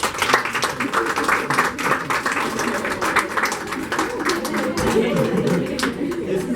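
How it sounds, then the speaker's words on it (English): A press-conference audience claps at length, a dense continuous patter of many hands close and fairly loud, with voices mixed in underneath. "we should all just give a round of applause to Joy"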